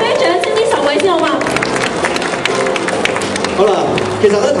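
Audience applause and cheering for ten contestants lined up on stage at a Hong Kong design competition, a dense burst of clapping and crowd chatter lasting several seconds, with a voice speaking over it.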